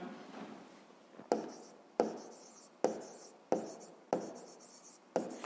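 Pen strokes on paper while working a school maths exercise, a soft scratchy scribble building in short bursts, with five or six sharp taps where the pen lands between strokes, close and quiet with no talk.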